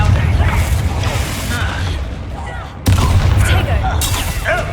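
A blasting spell effect from a Harry Potter video game, a dense roaring burst with crackling debris that cuts off and slams back in loudly, constant and busy throughout.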